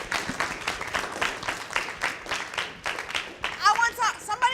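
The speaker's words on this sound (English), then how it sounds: "Give him another round of applause," An audience at a math conference applauding, a steady wash of clapping with some voices mixed in and a cheer near the end.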